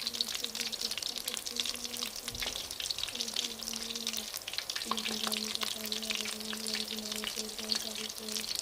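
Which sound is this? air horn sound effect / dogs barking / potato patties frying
potato patties frying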